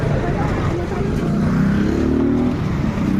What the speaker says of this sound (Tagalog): Hoy, may sasakyan, ha.